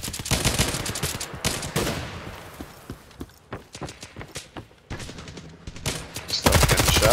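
Enemy gunfire in a video game shooter: dense bursts of rapid automatic shots and sharp single cracks, loud and close, coming in uneven volleys with brief gaps between them.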